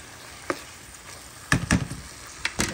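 Chicken livers dropped into a hot pan for a sweet pepper liver dish, giving a few sharp spitting pops and bursts of sizzle against a quiet frying background.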